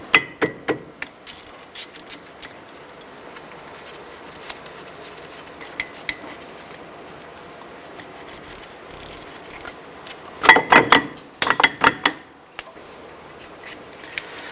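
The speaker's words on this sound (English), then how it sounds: "I'm going to use a 14mm socket and remove the upper caliper bolt and the lower caliper bolt." A 14mm socket wrench loosening the upper and lower brake caliper bolts on a 2005-2010 Jeep Grand Cherokee, close metallic ratcheting clicks in scattered bursts with quiet gaps, loudest near the end.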